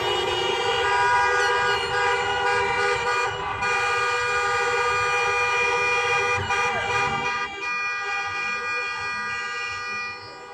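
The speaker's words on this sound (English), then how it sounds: "People hear you honk all the time when you're going past them." A vehicle horn blares in a long, steady, sustained honk for about ten seconds, loud and close, with slight shifts in tone along the way and no voices over it.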